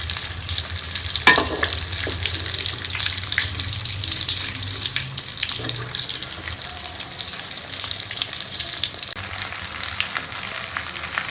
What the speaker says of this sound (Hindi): ये हमारी टिक्कियाँ फ्राई हो गई हैं,